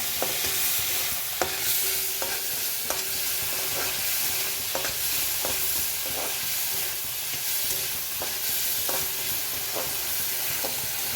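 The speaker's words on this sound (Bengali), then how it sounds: "এটা ভেজে নিচ্ছি একটু ভাজতে হবে তো" Okra (bhindi) frying in a pan with a continuous loud sizzle, broken by regular stirring scrapes and knocks of a utensil against the pan.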